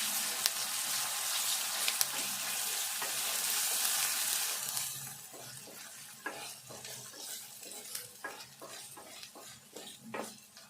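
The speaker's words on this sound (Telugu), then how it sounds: "ఇప్పుడు అల్లం వెల్లుల్లి పేస్ట్ వేసుకుందాము. ఇది కూడా మంచిగా వేగాలి." Ginger garlic paste sizzles loudly in hot oil in a pan for an Andhra-style egg curry with green chillies, the hiss easing after a few seconds into softer frying broken by repeated clinks and scrapes of a stirring spoon.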